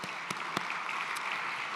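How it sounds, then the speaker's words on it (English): A brief stretch of scattered, fairly soft audience applause at an international symposium, greeting the event sponsors, with a few sharper individual claps standing out over a steady background patter. "So let's give them a round of applause."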